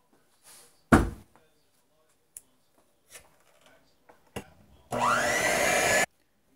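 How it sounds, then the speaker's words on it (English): An electric mixer beats thick white cake batter in a bowl, giving a loud, steady whir of about a second near the end. Scattered knocks and soft handling sounds come before it. "the mixer's fighting me because the batter's thick"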